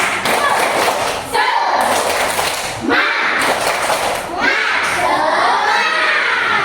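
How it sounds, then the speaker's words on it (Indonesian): Group of schoolchildren in a classroom doing a rhythmic spirit clap, several bursts of claps and thumps mixed with shouted voices, loud and close, with brief pauses between rounds. "Tepuk semangat bisa kan?"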